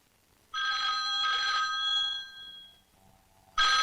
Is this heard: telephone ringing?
yes